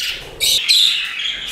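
Pet budgerigars and finches in an indoor bird room give a burst of high, busy chirps and tweets, fairly close and continuous, with several overlapping calls and no talking.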